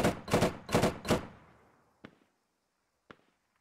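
A rapid burst of four loud gunshots rings out in the military shooter game Squad, followed by two fainter, isolated distant shots with quiet gaps between.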